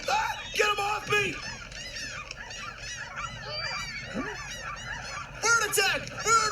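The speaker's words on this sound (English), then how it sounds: "Bird attack! Bird war!" Attacking birds in a video game honk loudly like a flock of geese, their overlapping calls coming in a chaotic, nonstop stream with louder bursts near the start and end.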